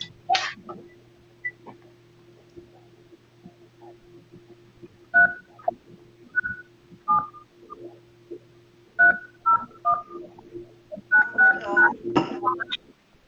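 Telephone keypad tones punch in a conference ID during a phone-in court hearing, short bright beeps arriving in two separate quick bursts, with faint line noise and brief voices in between.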